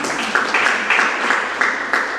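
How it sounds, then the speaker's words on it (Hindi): Audience clapping at a religious discourse, a short burst of scattered hand claps that fades in and out in uneven pulses. "अरे अपने ऊपर ताली तो बजा लो"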